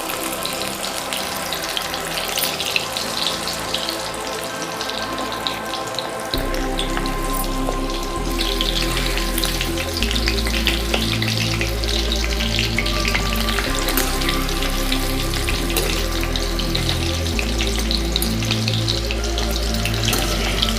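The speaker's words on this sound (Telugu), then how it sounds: "మనం ఒక్కొక్కటి తీసి ఇందులో వేద్దాం ఆయిల్లో. ఈ ముందు సగం వేపుకోవాలండి" Prawns for prawns 65 deep-fry in hot oil with a dense, continuous bubbling hiss, and a low rumbling hum joins partway through. The sound stays close and steady, with no speech.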